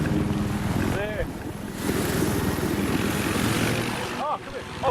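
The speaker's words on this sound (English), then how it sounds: "Helicopter, where's the helicopter?" A helicopter in a video game gives a steady loud rotor and engine drone through the whole stretch, with excited voices and exclamations over it.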